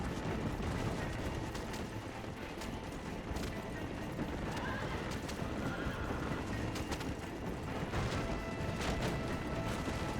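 Galloping horse hooves clip-clop steadily with occasional neighs in the Western game Red Dead Redemption, a dense, continuous layer of game sound with no one speaking.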